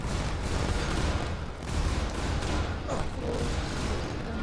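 Dense, continuous gunfire pounding a player's spaceship during a Star Citizen space combat trial, a loud, sustained barrage of overlapping impacts with brief dips, and no voices heard.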